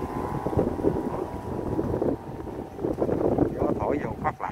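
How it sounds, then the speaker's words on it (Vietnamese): Strong wind gusts buffet the microphone on a raised perch above an open field where kites are flown, a rough, rumbling roar that swells and dips while a voice talks over it. "Này nó có cái gác ngồi trên này là gió lồng lộng luôn nè"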